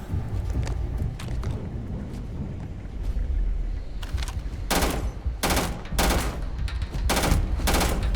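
Gunfire in the Starfield video game, with scattered shots early and then several loud, heavy bursts of automatic fire spaced a second or so apart over a steady background hum.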